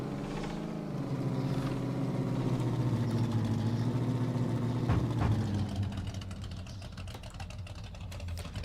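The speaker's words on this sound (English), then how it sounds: "That truck's definitely got a beefy sound to it." A truck engine in the Supermarket Simulator video game rumbles with a deep, steady idle up close, swelling slightly midway before easing off and thinning out toward the end, with no talking.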